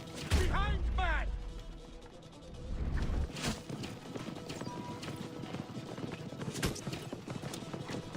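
Horses clip-clopping at a gallop as they pull a chariot in the game Assassin's Creed Origins, steady hoofbeats with crashes and clattering mechanisms, while a voice calls out early on.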